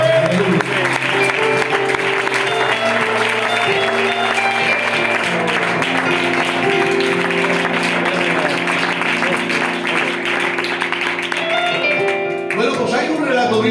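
Congregation at a Spanish-language church service applauding steadily together, a dense wash of clapping with sustained musical tones beneath, continuous and loud for most of the span before thinning out near the end.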